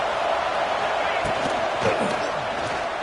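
A stadium crowd in a 2K25 football game roars as a steady, broad wash of noise, with a few thuds from the field, under a commentator's ongoing play-by-play.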